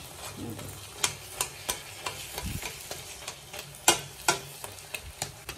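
Onions frying in a pan for an egg and drumstick curry, with tomato and raw mango pieces: a soft low sizzle broken by a steady run of sharp spoon scrapes and taps against the pan, close by.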